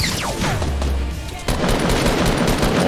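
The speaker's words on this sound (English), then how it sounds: "I'm getting shot in the back." Rapid gunfire in a squad-based shooter video game, a dense burst of shots striking the player from behind, loud and continuous with a sharp swell about halfway through and no talking over it.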